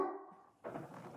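A dog lets out a short bark or yelp, then a second rougher vocal burst, close and fairly quiet, over in about a second.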